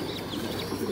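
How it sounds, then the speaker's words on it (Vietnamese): Thai Titan pigeons coo softly and steadily in a loft, low throaty murmurs repeating under a constant background hum, with no voices. "Đây, con chim bồ câu này là mới nở đây."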